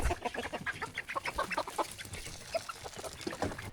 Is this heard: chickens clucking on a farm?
yes